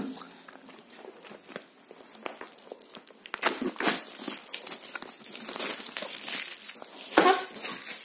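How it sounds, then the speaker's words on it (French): Small scissors cut and tear open a cardboard box nearby, giving continuous crinkling, crunching and snipping that gets louder partway through, with a sharp rip near the end. "Donc, je vais ouvrir la boîte."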